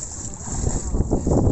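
Strong east wind blowing across open sea during a fishing trip, a steady, close rushing roar that buffets the microphone and swells louder toward the end, with no talking.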